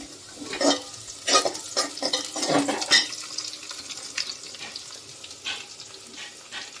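Onions and green chillies sizzle in hot oil while a utensil stirs and scrapes the pan in irregular bursts, close up and fairly loud.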